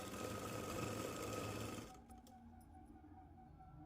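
A sewing machine stitches a folded seam on a Punjabi dress, running as a steady, dense whir for about two seconds before stopping, leaving quiet room noise with a few faint clicks.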